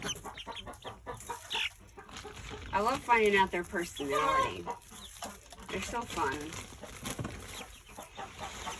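Chickens cluck and chatter nearby, with someone speaking over the flock.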